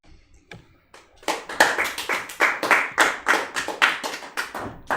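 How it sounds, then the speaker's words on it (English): An audience at a live speedrunning marathon event claps in loud, rhythmic unison, slow isolated claps building quickly into a steady, close beat of regular hand claps. "please don't clap"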